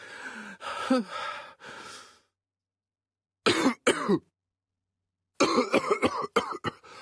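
A character in the Agatha Christie ABC Murders video game coughs in several short bursts, a couple of rasping fits separated by silent gaps, close and alone without talk.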